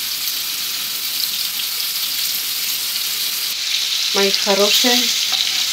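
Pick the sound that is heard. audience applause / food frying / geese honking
food frying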